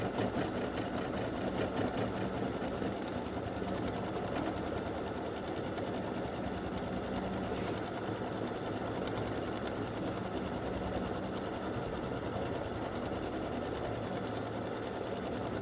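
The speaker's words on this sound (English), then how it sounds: "let it stitch the satin stitch in the same color" A sewing machine works continuously through a satin stitch for an appliqué design, its fast, even mechanical chatter steady and close for the whole stretch, with no voices.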